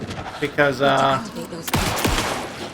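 Handgun shots in Alan Wake 2 fired at a pursuing enemy, a sharp burst of several loud cracks after a brief spoken exclamation, with faint music underneath.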